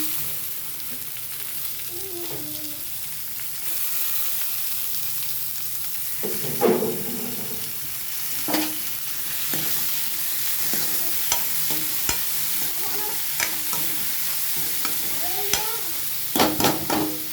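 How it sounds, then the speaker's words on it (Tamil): Small chopped tomato pieces sauté in a hot pan with a steady sizzle, broken by occasional sharp scrapes and clinks of a spoon stirring, with no talk. "தக்காளி நல்லா வதங்கட்டுங்க."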